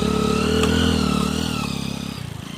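A motorcycle engine close by, running after a start and revving as the bike pulls away, a steady mid-pitched drone that rises and then eases while it rides off near a beach.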